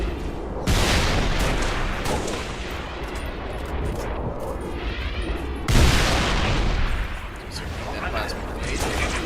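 A plasma grenade explodes amid a Halo firefight, with dense continuous gunfire and booms. A sharp blast about two-thirds through stands out, and talk runs under the din.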